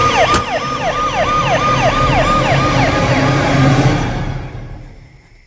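An ambulance siren wails loud and close in a rapid repeating up-down sweep over engine rumble for several seconds, then cuts off and fades out.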